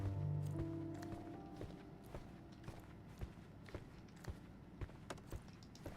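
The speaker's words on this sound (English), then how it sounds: "I heard footsteps upstairs a second ago." Footsteps in the Sherlock Holmes game, a series of soft, evenly spaced thuds moving at walking pace, faint and somewhat distant, following a low sustained tone that fades in the first second.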